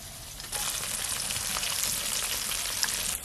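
Chicken pieces frying in hot oil, with a sudden onset of bright, crackling sizzle that then holds steady and close, with small pops scattered through it.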